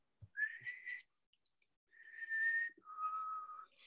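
A person whistles a tune from a 1983 song, a few sustained clear notes with short gaps between phrases, close and alone.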